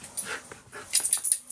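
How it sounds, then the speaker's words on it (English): A dog whimpers close by in a short run of thin, high whines and yips, with soft breathy gaps between the bursts. "Yes, dog."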